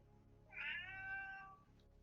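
A cat sound effect plays a single clear, drawn-out meow that rises and then trails off, fairly quiet and on its own, with no talking.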